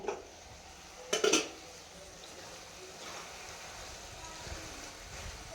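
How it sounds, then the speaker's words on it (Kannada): A pot lid clanks shut on a pan of uppitu vegetables, a quick metallic clatter of two or three knocks near the start, then quiet kitchen background. "ಲಿಡ್ನ ನಾನು ಕ್ಲೋಸ್ ಮಾಡಿ ಇವಾಗ ಮಧ್ಯದಲ್ಲಿ ತಿರುಗಿಸ್ಕೊಳ್ತಾ ಇರಬೇಕು"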